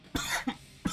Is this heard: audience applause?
no